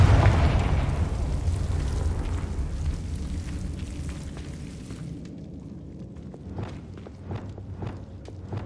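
A Confringo blasting spell goes off in the Hogwarts Legacy video game, a loud booming explosion at the start that rumbles and slowly fades, followed by a run of distinct footsteps.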